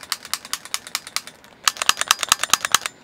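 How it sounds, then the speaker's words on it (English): Trigger of a commercial incandescent zap box being repeatedly clicked, a butane-lighter-style piezo clicker: a steady run of sharp, close snapping clicks, about a dozen, pausing briefly then resuming slightly louder and faster. "Sounds a lot like a butane lighter clicker."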